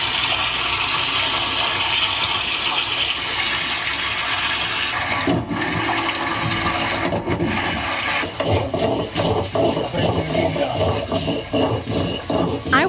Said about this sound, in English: That's them straining their vegetables.